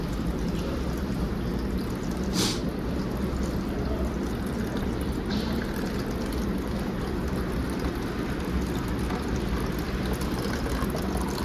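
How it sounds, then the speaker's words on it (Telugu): About a litre of ordinary water poured into a household water filter in the morning, a steady, continuous splashing rush that runs unbroken from start to finish with no talking. "పొద్దున్నే వచ్చి దీంట్లో ఒక లీటర్ నార్మల్ వాటర్ నింపుతా."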